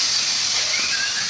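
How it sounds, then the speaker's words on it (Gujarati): A pressure cooker whistle in a rustic village kitchen where a vegetable curry is cooking: a steady, loud, high-pitched steam hiss sustained without a break. "કુકરની સીટી તો વાગી હતી લે."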